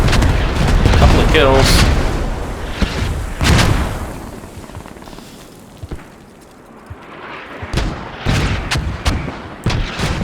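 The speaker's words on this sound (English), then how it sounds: "Is that a vehicle going down actually from the artillery?" Artillery fire and explosions in the military shooter game Squad: several heavy booms and blasts, some near and loud, others distant and fainter, spread across the span with a voice talking over the early part.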